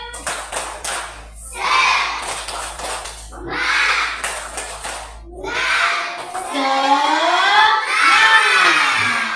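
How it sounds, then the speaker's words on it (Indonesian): A class performs the "tepuk semangat" clapping ice-breaker, sharp patterned claps in short groups alternating with children shouting and chanting together, growing into loud group cheering near the end. "kita ice breaking dulu. Nah, tepuk semangat."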